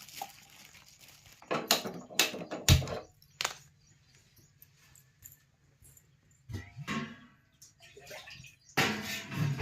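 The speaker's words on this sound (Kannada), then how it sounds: "ಒಂದು ಗ್ಲಾಸ್ ಆಗಷ್ಟೇ ನೀರನ್ನ ಹಾಕ್ಕೊಳ್ಳೋಣ" A glass of water is poured onto sugar to start a syrup for badusha sweets, giving irregular splashing and clattering bursts, some close and loud, separated by quiet gaps.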